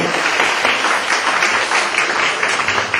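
Applause fills a baptism ceremony as a congregation claps steadily and densely throughout, loud and close, with no break in the sound.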